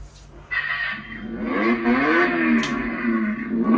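A green Lamborghini-style battery-operated toy ride-on car, its electric motor whirring up after a short pause and holding a steady, wavering whine close by, with clattering over it.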